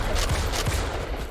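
Marksman rifle fire in Starship Troopers Extermination: several quick shots in a loud, dense battle din, evenly spaced and close over constant background noise.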